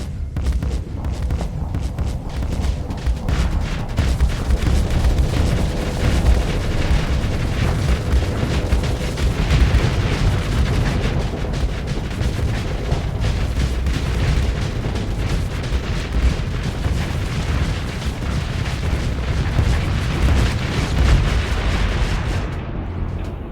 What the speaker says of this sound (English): The rear-mounted hyper-velocity cannons don't seem to be